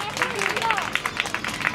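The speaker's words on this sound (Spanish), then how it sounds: "¡Fuerte aplauso!" Applause and scattered clapping from an audience at a magic show in Vitigudino, a dense crackle of hands with crowd murmur, fairly close and steady for a couple of seconds.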